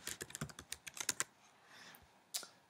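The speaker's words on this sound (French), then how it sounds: "Et je tape mon texte." Rapid typing on a computer keyboard while entering display text, a close, quick burst of sharp key clicks, then a short pause and a single final keystroke, with no voices.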